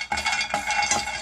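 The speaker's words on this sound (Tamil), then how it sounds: "ரொம்ப வறுக்க வேண்டாம் ஒரு 2 நிமிஷம் மட்டும் வறுத்து எடுத்துக்கலாம்" Almonds dry-roasting briefly in a pan, with a scratchy rattle of nuts shifting and a few quick stirring scrapes, close and moderately loud.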